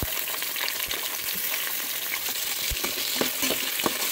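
Tomato frying in oil for mutton biryani makes a constant crackling sizzle, broken by a few sharp spatula taps and clicks, close and without voices.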